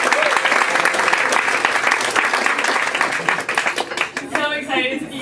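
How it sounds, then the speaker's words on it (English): A crowd at a live science comedy show claps loudly and steadily for two performers, the ovation thinning out near the end as a voice begins to speak over the last of it. "Let's give another round of applause for Rachel and for Tasha."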